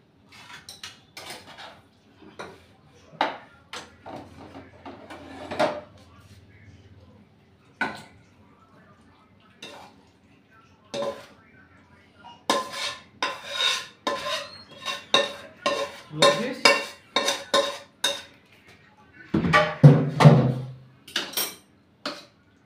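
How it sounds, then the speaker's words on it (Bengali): Chilli chicken being scraped out of a pan into a bowl: repeated close metallic clinks and scrapes of a spoon against cookware, sparse at first and then in quicker clusters, with one louder clatter near the end. "এবার আমি একটা গাবড়ি টাইপের পাত্র নিয়ে নিচ্ছি, বাটি, এটার মধ্যে ঢেলে নেব।"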